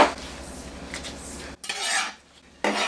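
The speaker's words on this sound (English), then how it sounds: "We're going to go ahead and chop our eggs." A knife chops boiled eggs for a seafood potato salad, with scraping, clinking contact against a bowl or board in a few close strokes and short pauses.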